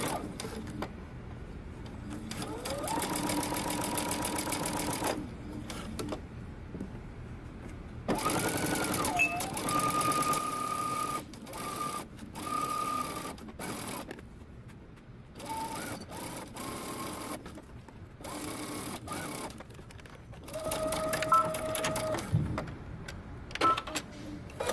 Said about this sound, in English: Now we're going to be stitching using a normal length stitch.